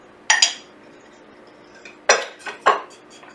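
Flour, sugar, baking powder, salt, cinnamon and nutmeg being added to a bowl for apple fritters, heard as a few sharp clinks and scrapes of metal utensils against the bowl, separated by quiet pauses.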